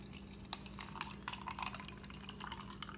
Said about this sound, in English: I'm going to pour the coffee in there.